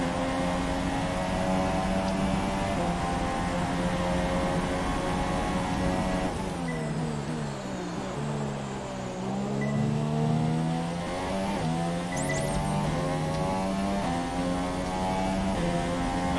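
A Formula 1 car engine in the F1 2017 racing game, running with an aero rear wing upgrade at the Malaysian GP: a loud, continuous high-pitched whine that rises and falls through gear changes.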